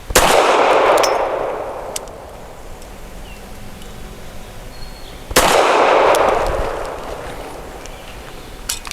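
Two sharp, loud pistol shots from an FN Browning BDA 380 firing 95-grain Blazer aluminum ammunition, a few seconds apart, each a hard crack followed by a ringing outdoor echo that fades slowly, with no speech.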